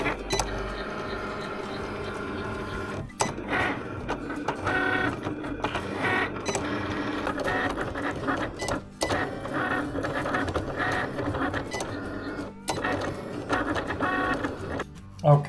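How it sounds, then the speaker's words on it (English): Vinyl cutter slicing vinyl lettering for a motorcycle t-shirt design, a busy mechanical whirring and chattering with rapid stop-start carriage movements, close and steady for most of the stretch with brief pauses. "the vinyl's gone through the cutter"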